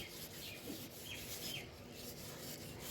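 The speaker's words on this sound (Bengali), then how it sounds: "এইভাবে কাপড়ে প্রাইমার লাগিয়ে" A cloth rubs primer onto a plywood board outdoors, giving a quiet, continuous soft scrubbing with no distinct strokes, a few faint bird calls in the background.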